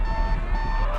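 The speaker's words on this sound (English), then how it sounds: "The buzzer counts down." A steady electronic buzzer sounds at the end of a countdown, one loud unbroken drone lasting the full second with no voices over it.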